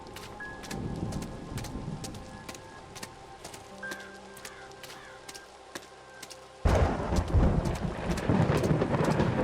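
A video game thunderstorm mixes steady rain and low rolling thunder with scattered ticking drops and faint tones, then a loud burst of heavier rain and rumble in the final seconds.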